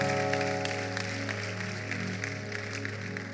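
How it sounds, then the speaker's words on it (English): A church congregation claps during a service, a soft, continuous spatter of hands over a steady low hum, fairly distant and fading slightly toward the end. "Clap for Jesus one more time."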